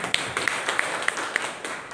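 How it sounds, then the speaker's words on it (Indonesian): A few scattered, uneven handclaps for a young church member, fairly faint and sparse over a quiet room, with no voices. "Tepuk tangan buat J."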